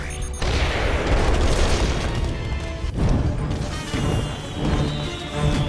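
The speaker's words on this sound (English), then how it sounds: "this one's gonna get a taste of rockets" Rocket explosions in the video game Costume Quest go off as a string of loud, booming blasts and crashes, one after another, with crackling debris filling the gaps between the hits.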